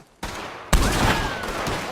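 Gunfire in Red Dead Redemption 2 during a fight against O'Driscolls: a sudden burst of shots after a short quiet, then a dense, echoing volley that rings on loudly for the rest of the moment.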